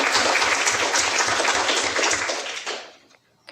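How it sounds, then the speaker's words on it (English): Audience applause at a Ropecon 2018 convention panel on women in game design, a dense sustained burst of many hands clapping that fades out after about three seconds. "And applause for Kristel"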